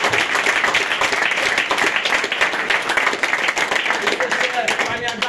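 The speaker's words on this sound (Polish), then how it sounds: "I tu proszę o gromkie oklaski." An audience at an election-night gathering bursts into sustained, loud applause, dense clapping filling the whole stretch with faint voices mixed in.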